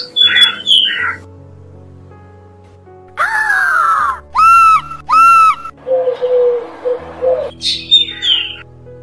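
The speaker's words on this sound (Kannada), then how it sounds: "ಇದೇ ನಮ್ಮ ಕಾಜಾಣೆ, ಮಿಮಿಕ್ರಿ ರಾಜ. ಇದು ಬೇರೆ ಹಕ್ಕಿಗಳ ಕೂಗನ್ನು ಅನುಕರಿಸೋ ಜಾಣ." A drongo runs through a varied medley of borrowed bird calls, with bright whistles, a harsh buzzy rasp and chirps coming in separate loud, near bursts with brief pauses between them.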